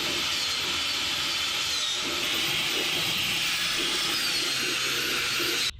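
A 12,000 RPM gasket remover tool spins steadily at high speed on the engine of an abandoned 1978 Ford F250 crew cab, producing a continuous loud hissing whine that runs unbroken for several seconds before cutting off.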